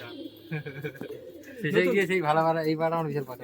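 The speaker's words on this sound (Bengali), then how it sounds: "পায়রা উঠছে বন্ধুরা" Pigeons cooing in a loft, with soft throaty coos building into a louder, fuller cooing chorus close by, while a voice speaks briefly underneath.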